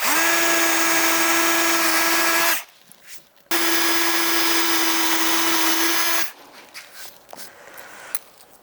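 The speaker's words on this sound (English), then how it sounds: "The bamboo drill has cut the melamine first very neatly, and it's drilled very accurately into the melamine." A power drill spins a Japanese bamboo drill bit into melamine board in two bursts, each a loud steady motor whine lasting a few seconds, separated by a short pause and followed by quieter handling clatter.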